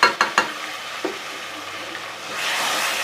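Garlic ginger paste fries with onions in a hot pan. Two or three quick stirring knocks come first, then a steady sizzle builds and grows louder toward the end. There is no talking.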